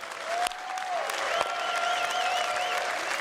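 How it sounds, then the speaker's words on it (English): Steady applause from a convention audience fills the hall, sustained and fairly loud, with a couple of sharper claps standing out near the start. "one more round of applause for all the CTG guys"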